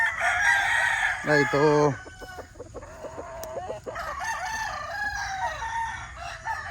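A bulik stag gamecock crows at close range with a strained, rising call that breaks into a stuttering, harmonic-rich crow, followed by quieter clucking and other fowl calls, with someone talking briefly.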